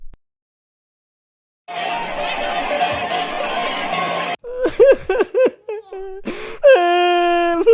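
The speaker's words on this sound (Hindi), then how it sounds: "काली परी ने किसी के रोने की आवाज सुनी और उसी तरफ जाने लगी।" An old woman in an animated story wails and sobs loudly, with a long sustained cry followed by broken, gasping sobs and rising, drawn-out moans.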